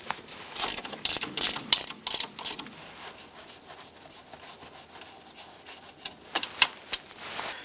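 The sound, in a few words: 15mm ratchet wrench removing strut top nuts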